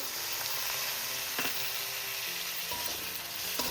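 Chopped tomato and slit green chillies frying in oil in a pan for aloo dum, with continuous bright sizzling and a few soft stirring scrapes, close and steady.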